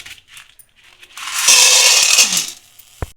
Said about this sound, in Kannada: ಇವಾಗ ಕಡಲೆಕಾಳು ಹುರ್ಕೊಂಬಿಡೋಣ